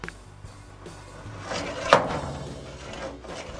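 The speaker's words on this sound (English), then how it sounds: "Cleaner runners slide better." A drawer of a flood-damaged Snap-on metal tool box slides on freshly cleaned and lubricated runners, a short close rolling glide that ends in one firm knock, with no talk.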